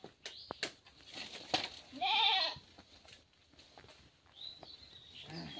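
Village goats giving one loud, wavering bleat near the middle, with a fainter call later amid rustling and footsteps in a quiet rural outdoor setting.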